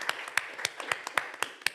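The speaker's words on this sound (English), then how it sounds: "We can clap" A few people in a conference hall clap at the end of a session, sparse hand claps arriving in a steady rhythm of about five per second, close and fairly loud, with no voices.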